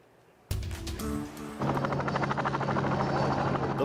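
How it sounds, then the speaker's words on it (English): Helicopters and aircraft at the Clark County Air Show in 1993 make a loud rhythmic rotor chop and engine drone that starts abruptly and keeps pulsing steadily. "The buzz of helicopters and aircraft couldn't sound out the real buzz over the star attraction at the Clark County Air Show."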